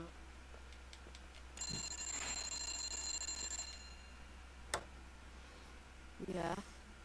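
A telephone rings in the video game The Suicide of Rachel Foster, a faint ringing bell for a couple of seconds within quiet ambience, followed by a sharp click and a brief voice.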